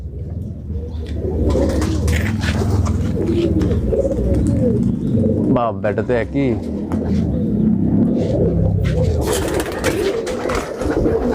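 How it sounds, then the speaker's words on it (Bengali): Pigeons kept as racing birds coo repeatedly at close range, their soft calls running beneath steady background noise and a voice talking throughout. "এটা অনেক বাজির কবুতর"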